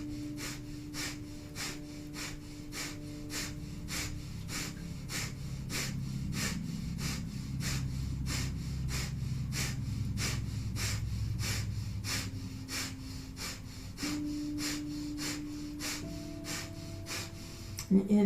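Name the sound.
breath of fire yoga breathing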